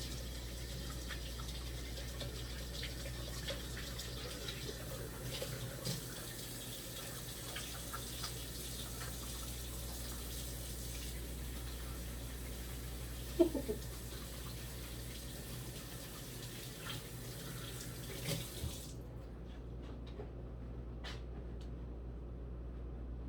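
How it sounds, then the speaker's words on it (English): Tap water runs steadily while hands are washed after handling pemmican meat and fat, a continuous even rush at moderate distance that cuts off abruptly near the end, with no talking. "let me wash my hands real quick here"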